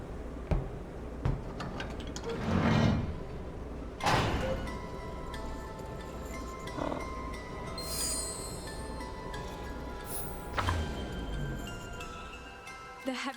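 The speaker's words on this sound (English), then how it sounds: "The heavy steel door knocked Luca to the ground" A heavy steel door in the game Beacon Pines swings and slams with loud impacts near the 1-, 4- and 10-second marks, over a steady low hum and faint metallic ringing.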